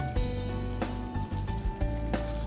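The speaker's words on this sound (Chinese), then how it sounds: "一档的速度轻轻的打搅" An electric egg beater runs at its lowest speed, mixing sugar and salt into a pineapple cake dough. It gives a steady, close motor whir with a few soft bumps as the beaters move through the bowl.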